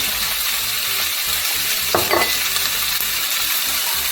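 Spring onion, thyme and curry hitting a hot pan, an even close sizzle with soft stirring scrapes and a brief sharper burst of spitting midway.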